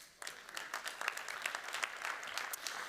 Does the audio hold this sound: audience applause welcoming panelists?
yes